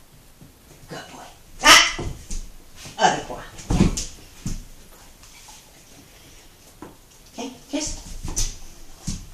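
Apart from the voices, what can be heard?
puppy barking and whimpering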